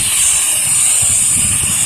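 A pressure washer sprays through an X-Jet nozzle, a loud, steady, close-up hiss and roar that holds constant throughout, with no pauses.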